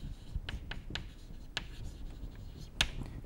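Writing on a board during a mathematics lecture on commutative algebra and the Zariski topology, several short, sharp taps and scratches in an irregular rhythm over a quiet room, no talking.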